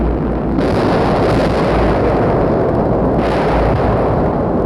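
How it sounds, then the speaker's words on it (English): Enemy mortar rounds bombard a frontline airfield in wartime Vietnam, a loud, continuous barrage of heavy blasts and rumbling impacts with no pauses, filling the whole stretch without any voices. "of enemy mortars bombarding a frontline airfield."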